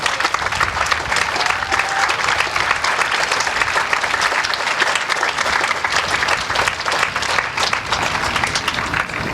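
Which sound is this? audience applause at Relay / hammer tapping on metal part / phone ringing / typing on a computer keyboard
audience applause at Relay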